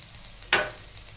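Onion, garlic, curry leaves, tomato, ginger and green chilli frying in oil for paneer masala: one quick, close scrape of a stirring spoon over a faint, steady sizzle.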